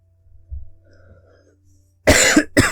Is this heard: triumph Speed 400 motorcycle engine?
no